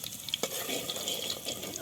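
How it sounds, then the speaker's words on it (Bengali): Chopped garlic fries in hot oil for an aloo dum with dal puri, a steady close sizzle with a brief stir or utensil scrape near the start, no voices. "রসুন কুচিটা একটু লাল লাল করে ভাজা হয়ে গেলে এবার আমি একটু পেঁয়াজ দেব"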